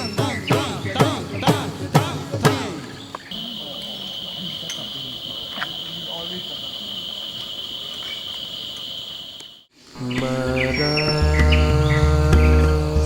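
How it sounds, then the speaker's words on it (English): Forest birds call at dawn around a jungle lodge with perches and bird baths, mixed chirps and tweets overlapping near and far alongside a steady insect drone, with louder song bursts toward the end. "birds making the wake-up call"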